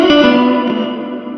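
A guitar runs through a Limetone Audio Moonlight reverb pedal set bright, playing a short note that rings out with a shimmering, glassy reverb tail. The tail fades steadily over about a second and a half, and no talk is heard.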